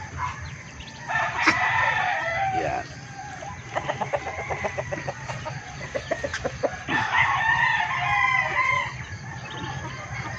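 Roosters crow over a steady chorus of clucking white and black chickens, with ducks nearby and a few sharp calls rising above the flock at close range.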